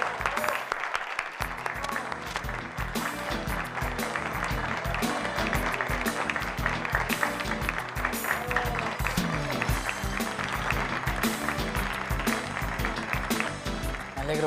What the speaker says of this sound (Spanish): Vamos a nuestras finalistas a recibir un aplauso más fuerte y cariñoso del público.